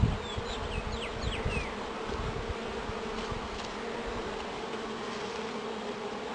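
Honeybee drones and workers hum in a steady dense buzz inside an opened top bar hive in spring, a continuous close drone with the occasional louder bee zipping past.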